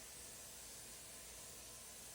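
Primer hisses from a sprayer onto a soft, porous wooden dresser inside a spray tent. The spray is a steady, broad, faint hiss with no voices over it.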